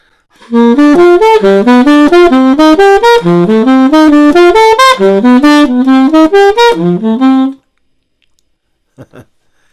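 A sequence of sustained jazz chords from a rhythm changes progression played on a keyboard, changing roughly every half second to second, clear and close, then a short silence.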